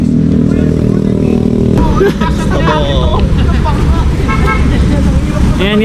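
A group's motorcycles idling with a low engine drone nearby, which gives way to people talking over street noise and scattered traffic.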